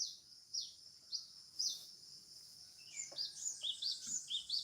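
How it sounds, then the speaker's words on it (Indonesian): Small birds sing outdoors, repeated high chirps and short trills arriving in quick bursts every half second or so, fairly close and clear with no voices over them. "Enak di sini kan, suara burungnya dapat."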